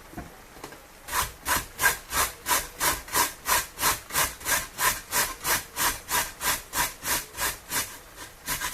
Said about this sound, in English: I'm using the big side of it to grate the carrots